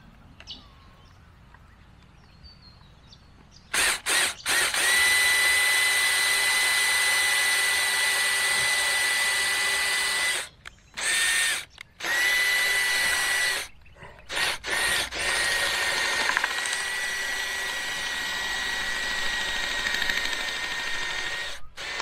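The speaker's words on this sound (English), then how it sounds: "I'm just going to tech screw that bracket, that conduit bracket, onto the timeless H-post" A power driver sends a tech screw through a conduit bracket onto a fence H-post outdoors: a long, loud, steady whine with a few brief pauses and restarts, then a quieter continuing drone.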